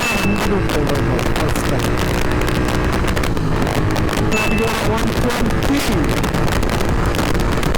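A Royal Enfield GT 650 exhaust roars loud and close while accelerating hard in gear, constant rumble with heavy wind buffeting, and a rider speaks briefly over it.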